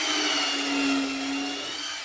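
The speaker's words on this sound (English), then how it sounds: "What I'll end up doing is drill this hole" A power drill boring a hole through plywood, a steady high whine held loud and close for the whole stretch without a break, no talking over it.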